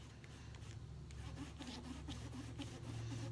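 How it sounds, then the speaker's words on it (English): Sponge dabbed with ink onto a paper bakers treat box held by washi tape gives a steady soft scuffing and rubbing texture, close and continuous throughout with a low hum beneath. "So I'm just sponging this on."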